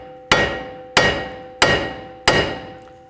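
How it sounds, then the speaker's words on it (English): Four sharp metallic hammer strikes on the back side of a front wheel hub of a 2013-19 Ford Police Interceptor, at a steady, even pace, each ringing briefly before the next blow. "we can take a hammer to the hub, just hit the back side of the hub."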